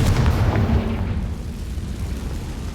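Confringo fire spell explosion from the Hogwarts Legacy video game, a loud booming blast at the start with a heavy low rumble that slowly fades over a few seconds, no talk.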